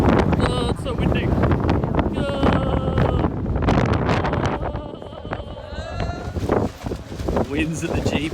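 Heavy wind buffets the microphone of a motorcyclist riding with panniers, a continuous rushing roar, with a voice talking underneath it.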